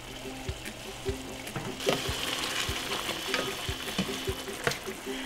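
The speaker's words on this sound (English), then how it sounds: "Now we can add the 1/2 cup of heavy cream. And stir in your cooked shrimp." Cooked shrimp stirred into a creamy tomato sauce with heavy cream in a pan. A soft steady sizzle runs under scraping spoon strokes and occasional light knocks against the pan.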